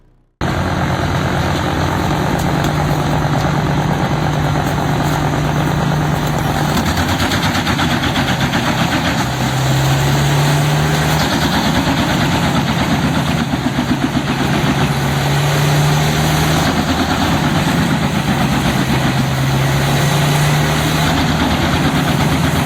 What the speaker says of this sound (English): The Petzolato PTH 1400 to 1000 wood chipper, powered by a robust Caterpillar C2 engine, looms like a massive steel beast awakened in the heart of the timber yard.